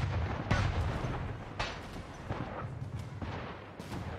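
Ship cannons in the video game Anno 1800 boom repeatedly at irregular intervals during a port attack, several heavy blasts with rumbling tails over a low background.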